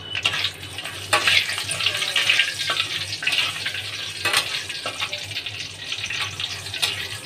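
Black cumin seeds and halved dried red chillies sizzle and spatter steadily in hot oil in a wok, a continuous close frying hiss with occasional sharper crackles and stirring clinks.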